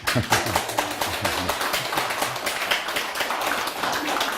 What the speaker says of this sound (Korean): 일단 좀 박수라도 좀